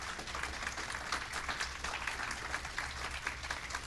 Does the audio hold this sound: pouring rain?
no